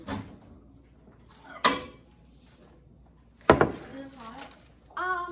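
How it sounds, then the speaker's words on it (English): A bowl of Rice Krispie mixture clatters against a hard surface as it is taken out of a microwave, two short bursts of knocking, followed by a brief voice-like murmur. "carefully remove bowl from microwave and stir"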